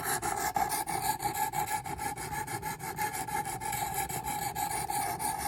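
A knife being sharpened on a Work Sharp Precision Adjust sharpener, steady rhythmic rasping strokes of blade against abrasive, close and continuous with no talk.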